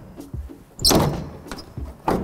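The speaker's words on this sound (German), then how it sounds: "Türen lassen sich auch noch alle verschließen." A car door on a 1941 Tatra 87 swings shut with a solid thunk near the middle, followed by lighter knocks and handling noises at close range, with no talk.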